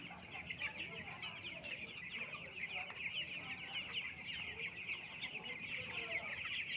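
Young broiler chickens, fourteen days old, clucking and chirping in a poultry farm shed, a busy overlapping chatter from many birds at moderate distance with faint background noise.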